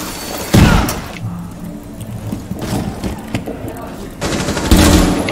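Bursts of machine-gun fire in Rainbow Six Siege, short loud volleys at the start and end, with busier game noise and muffled thuds in between.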